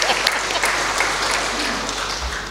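Hall full of people clapping steadily at a plenary session of the Gorontalo provincial parliament, a dense, loud, continuous round of applause throughout.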